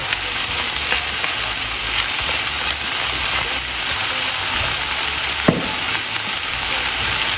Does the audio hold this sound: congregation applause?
no